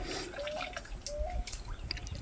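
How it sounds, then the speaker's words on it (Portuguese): Water trickling and dripping from the tap of a 1000-litre water tank, a faint, irregular patter of small drips and light trickle over quiet background hiss. "Tá pingando aqui?"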